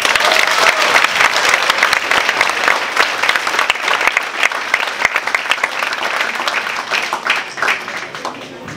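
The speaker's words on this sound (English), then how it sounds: "a warm, warm, warm round of applause" A gala audience gives a warm, sustained round of applause, dense and loud clapping filling the room steadily from start to finish with no pause.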